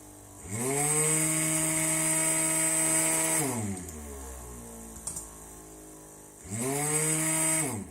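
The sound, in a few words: motor switching on then off with speed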